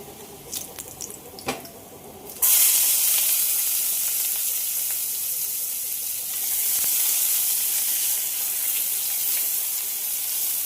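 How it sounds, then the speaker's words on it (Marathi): Chopped onion dropped into hot oil over browned garlic in a pan for a Malvani-style chicken curry, a few handling clicks then a sudden loud, steady hiss of frying that carries on alone. "आता लसूण चांगली ब्राऊन झालेली आहे. आता आपण यावर टाकणार आहोत कांदा."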